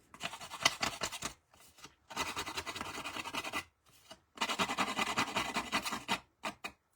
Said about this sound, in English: We're going to take our scissors and we're going to rough up